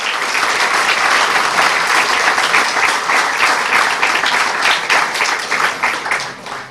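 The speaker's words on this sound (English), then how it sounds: "I want us to give the Benquevio del Carmen Marching Band another round of applause" A large audience at a Belize Independence anniversary ceremony gives a marching band a sustained round of loud, dense applause, even and continuous before tapering slightly at the end.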